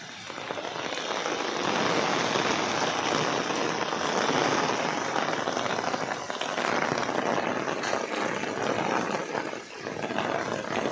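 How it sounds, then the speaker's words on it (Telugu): Heavy rain pours down steadily in Pithapuram in a loud, dense roar of drops hitting surfaces nearby, unbroken for the whole stretch. "ఈరోజు గట్టిగా వర్షం పడుతుంది"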